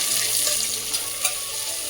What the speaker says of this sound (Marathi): तो कांदा छान परतून घ्यायचा आपल्याला